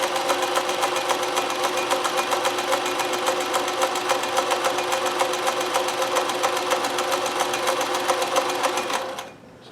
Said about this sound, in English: You can hear there's quite a lot of bobbin noise from this machine.